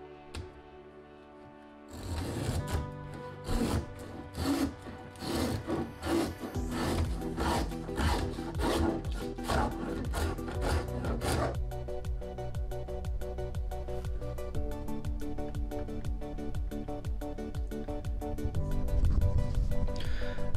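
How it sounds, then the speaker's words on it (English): A spokeshave shaves a wooden five-string fretless bass guitar neck with repeated scraping, rasping strokes, close and steady, over background music. "here is the Spokeshave with the cutting surface pointing down. I'm going to draw it to me"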